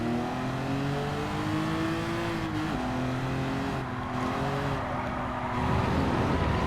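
A race car in Gran Turismo 7 revs loudly and steadily on a racetrack during an International A license test, its engine pitch rising and dipping through gear changes with no voices over it.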